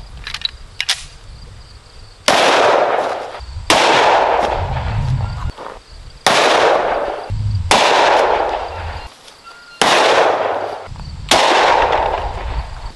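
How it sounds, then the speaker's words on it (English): Six sharp 10mm pistol shots strike Level 3A ballistic plates, each loud crack followed by a short ringing decay, spaced about one to one and a half seconds apart with no talking. "Let's do 3 more 10mm rounds."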